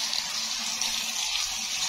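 Water running steadily while plants are watered outdoors, a close, continuous hissing gush with no breaks.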